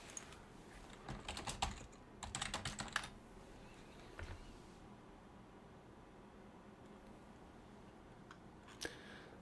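Typing on a computer keyboard, quiet close clicking in several quick bursts during the first few seconds, then near silence with a single stray keystroke near the end.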